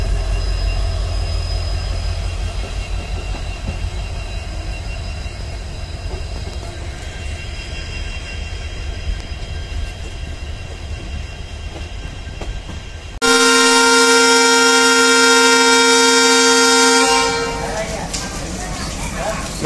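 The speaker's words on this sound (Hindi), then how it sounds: "ये जो सामने दो इंजन देख सकते हो ये बैंकर लोकोमोटिव है" Train at Kulem station with two diesel banker locomotives attached for a ghat climb toward Dudhsagar: heavy diesel rumble and rail noise under a voice, then a loud multi-tone horn blast for several seconds before the rumble returns.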